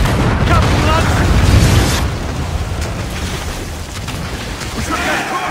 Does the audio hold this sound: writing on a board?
no